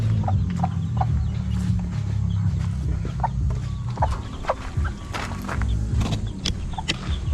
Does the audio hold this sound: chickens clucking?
yes